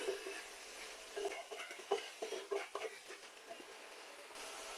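Beef pieces being stirred and fried with spices in a cooking pot, soft scraping strokes and faint sizzling in irregular bursts, quiet and close.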